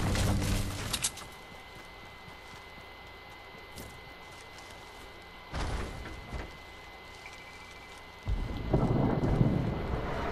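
Rumbling thunder of an approaching storm in a Fortnite match, heavy low bursts at the start, midway and a loud sustained roll near the end, over a steady windy rain-like wash.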